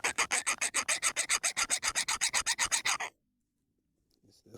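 A chainsaw file rasps rhythmically across a stone in a hardness test, about twenty even, loud back-and-forth strokes close up before stopping abruptly into near silence.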